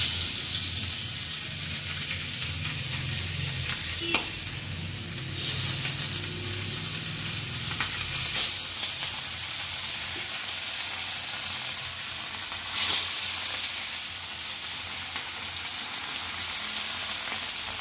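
Fish frying in a pan at home, a steady hissing sizzle with a few louder bursts of spatter and spoon taps spread across the clip.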